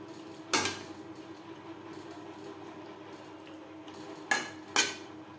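Fried pointed gourd mixed with spices and yogurt in a pan: a spoon knocks sharply against the metal once, then twice more in quick succession after a quiet stretch of faint background hum.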